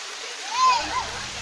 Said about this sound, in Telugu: ఇప్పుడైతే మనం చూస్తున్న వాటర్ ఫాల్ చూసారో ఎలా ఉందో, పైనంగా వాటర్ పడుతున్నాయి